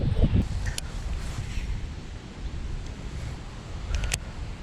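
Steady wind buffets the microphone outdoors while a BFS fishing reel is cast into the wind, giving a rough low rumble throughout with a few faint clicks and knocks and no talk.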